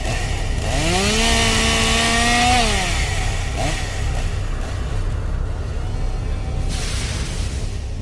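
A chainsaw engine revs up to a high whine and drops back, running loud and close throughout, at a haunted attraction in Lee, New Hampshire.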